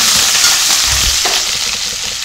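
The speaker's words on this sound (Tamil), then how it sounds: "இப்போ எல்லாத்தையும் போட்டு நல்லா வதக்கியாச்சு" Cumin, pepper, ginger, green chilli, asafoetida, curry leaves and cashews fry in hot ghee over a medium flame for foxtail millet pongal, giving a loud, continuous close-up sizzle with soft stirring sounds.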